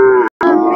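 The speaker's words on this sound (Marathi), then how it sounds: "सांगोला बाजारमध्ये गिर गाय पण भेटू शकतात." Cow lowing at a Khilar cattle market in Sangola, Maharashtra: two loud, close moos with a brief gap between them, stated alone with no talk.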